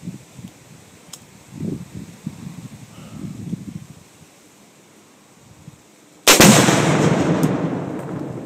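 An AR-15 rifle shot sets off a Tannerite target outdoors: a sudden loud blast that rolls into a long, decaying rumble, preceded by quiet rustling and faint handling noises.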